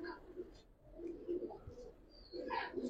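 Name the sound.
Giribaz pigeons cooing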